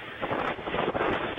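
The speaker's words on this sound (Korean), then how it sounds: "강한 바람 소리와 함께 전신주를 포함해 나무들이 쓰러집니다." Strong, roaring wind from a tornado in the Pico Rivera area southeast of Los Angeles, a steady broadband rush with gusting swells throughout, loud and close with no voices.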